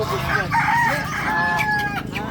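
A rooster crows loudly over a clucking flock of chickens at a market, with a busy, crowded background.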